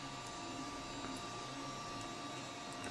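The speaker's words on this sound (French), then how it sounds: "là il est en train d'imprimer en direct" A 3D printer builds a part layer by layer, giving off a steady, even mechanical whir and hum with faint stepper-motor tones, quiet and continuous, with no talking.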